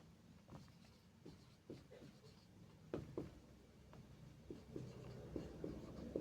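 Pen or chalk writing out a Class 10 maths solution, with a series of short scratchy strokes and taps at an irregular pace, fairly faint against a quiet room.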